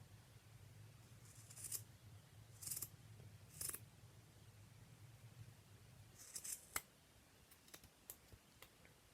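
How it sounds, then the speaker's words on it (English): Scissors snip through the middle of a sock in a few distinct cutting bursts, followed by several sharp, faint clicks, close and quiet with no talking. "So I'm going to cut down the middle."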